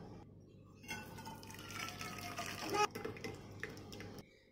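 Cooking water is poured off cooked dal from a pressure cooker, a soft trickling, splashing liquid pour that swells in the middle and then stops, with quiet talk nearby.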